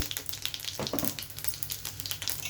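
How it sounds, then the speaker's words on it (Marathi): Hot oil crackling and spitting with rapid, irregular pops as mustard seeds splutter in a pan with fennel seeds and urad dal, close up with no voices. "राई तडतडली आहे"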